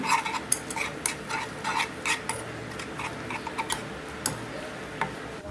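A spoon stirs milk into roasted flour in a pan for a Diwali seven-cup burfi, making quick, irregular metallic clinks and taps against the pan over a quiet background.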